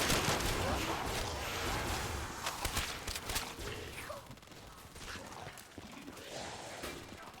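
Gunfire at zombies in modded Black Ops 3 Zombies, a loud flurry of rapid shots early that thins into scattered pops, mixed with game noise and people talking.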